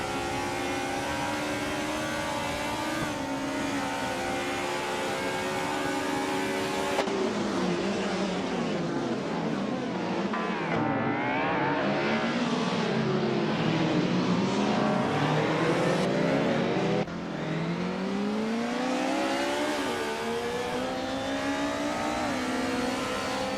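Race cars roar continuously in a racing video game, engines revving and shifting with rising and falling pitch as several cars jostle, including a 1994 Mercedes C180 DTM; loud and steady throughout with no talk.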